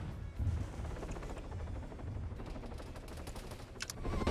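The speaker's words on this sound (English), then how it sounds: "So you're hearing the AA guns firing off." Anti-aircraft guns fire in a video game, a dense, continuous rattle of rapid bursts running throughout, loud and steady with a few sharper cracks near the end.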